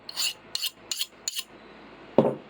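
A file skated across the hardened blade of a knife made from a pipe wrench to test hardness: four short, bright rasping strokes in a steady rhythm, then one heavier, lower scrape with a slightly different tone.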